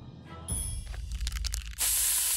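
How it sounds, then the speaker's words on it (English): Pepper spray hissing in the South Park: The Stick of Truth video game, a loud steady burst of broadband spray noise that comes in near the end after some brief game sounds. "Your pepper spray didn't work."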